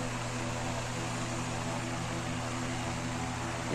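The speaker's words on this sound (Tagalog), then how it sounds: "yun ang tunog ng electric pan" An Astron Deck electric fan runs on speed setting 3 after a capacitor replacement, giving a steady motor hum and whooshing airflow close by with no change in pitch or level.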